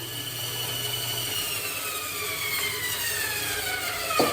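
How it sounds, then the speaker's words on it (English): A bandsaw cuts plywood riblets for a camp trailer build, a steady close mechanical whine and buzz of the blade running through wood, with no talking over it. "We're going to take it to our bandsaw, cut them out"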